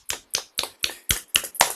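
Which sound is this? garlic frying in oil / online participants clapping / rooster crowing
online participants clapping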